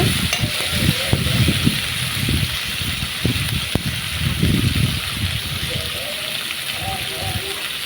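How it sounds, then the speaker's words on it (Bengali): Ground raw spice paste fries in oil for a pigeon curry, crackling and sizzling steadily with bursts of stirring and scraping in the pan, close by; a voice talks faintly in the background. "যাতে বাটা কাঁচা মশলার কোনো ঘ্রাণ না থাকে, একটু তেলে ভেজে নিব।"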